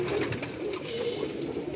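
A flock of pigeons on a rooftop in Karachi keeps up a low, rolling coo, several birds overlapping in a steady warble heard close by without talk.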